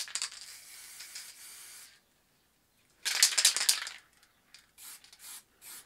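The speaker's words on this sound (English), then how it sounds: "So just going to go across the bottom, just spraying light." Water-based spray paint hisses onto a canvas in short bursts: a steady light spray, a pause, a louder and denser blast, then a few brief puffs, all close up with no talking.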